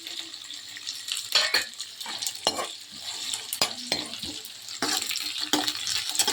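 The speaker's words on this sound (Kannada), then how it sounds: "ನೋಡಿ, ಇದು ಚೆನ್ನಾಗಿ ಫ್ರೈ ಆಗ್ತಾಯಿದೆ." Chicken with onions, green chillies and curry leaves sizzles in a pan in a Kannada-style kitchen, with steady frying hiss broken by repeated scrapes and clinks of a stirring utensil against the pot, close up and without speech.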